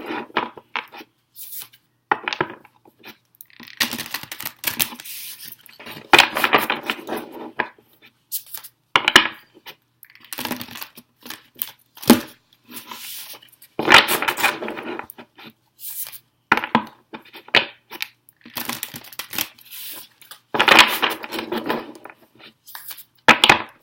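Oracle cards being handled and shuffled for a weekly tarot reading: repeated soft riffling and slapping bursts in an irregular rhythm, close and fairly loud, with no voice heard.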